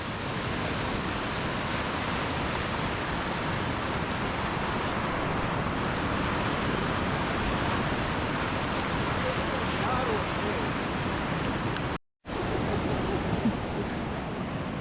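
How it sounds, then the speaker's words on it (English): Ocean waves surge in beside a coastal wall as a steady, loud roar of surf mixed with wind buffeting the microphone, broken by one brief dropout near the end. "When the waves is ripping in like that behind you"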